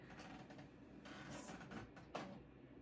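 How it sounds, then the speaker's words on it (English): A home printer runs indoors, giving soft mechanical whirring and brief sliding, feeding sounds in short bursts, fairly faint and with no one talking. "The printer is talking,"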